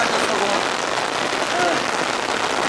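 Light rain falling on a small pond outdoors: a dense, steady hiss of fine drops pattering on water, continuous and even throughout.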